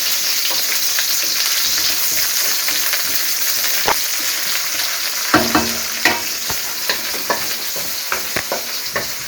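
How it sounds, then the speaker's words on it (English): Onion frying in a pot, a constant close sizzle with intermittent scraping and knocking of a utensil stirring against the pot. "Now I'm going to put my onion. Cook this for 1 minute."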